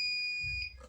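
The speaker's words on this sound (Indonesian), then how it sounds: "Maka alarm akan berbunyi terus-menerus sampai kapan? Yaitu sampai pintu ini tertutup." An IoT door security alarm sounds continuously after the door is forced open, a loud steady high-pitched electronic tone that holds and then drops away as faint background clatter follows.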